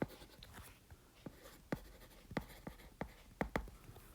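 Marker or chalk writing on a board during a lecture, with a series of short, quiet scratching strokes at irregular intervals, heard close.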